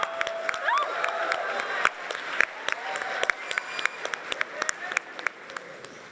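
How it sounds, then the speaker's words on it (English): A small audience at a product launch gives scattered, sparse claps, individual hand claps standing out distinctly, with some chatter and voices mixed in. "Can we get a round of applause for Scott and Brandon?"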